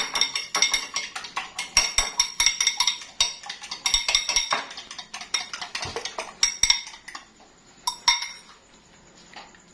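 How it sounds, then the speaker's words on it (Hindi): Frying pan being handled while a little oil is added for a chicken club sandwich, with dense, repeated close metallic clinks and scrapes of utensils against cookware, easing off toward the end. "ये फ्राई पैन में मैं ऑयल डाल दूंगी थोड़ा सा"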